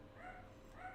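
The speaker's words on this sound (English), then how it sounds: "And there's Joan doing what I thought she'd end up doing, barking at nonsense" A dog barking at a distance, two faint short yips or whimpering barks in quick succession over a low background hum.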